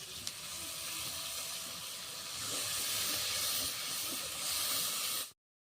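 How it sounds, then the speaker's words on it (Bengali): A ground paste of poppy seed, cumin and mustard with a little water fries in hot oil, giving a steady, close hiss of sizzling that swells slightly midway and cuts off abruptly. "একসঙ্গে বেটে রাখা পোস্তু জিরে সর্ষে জল একটু দিয়ে মশলাটা আমি ভালোভাবে কষে নেব"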